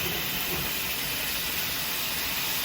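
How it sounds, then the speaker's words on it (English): Ground meat cooking in a pan for a taco casserole, a steady broadband sizzle and hiss that runs unbroken and fairly loud, with no voices. "We're going to let this meat cook up"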